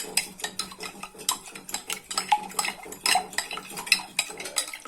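A tablespoon of borax is stirred into about 100 ml of lukewarm water with a spoon. The metal spoon clinks quickly and repeatedly against the container, close by and with no talk.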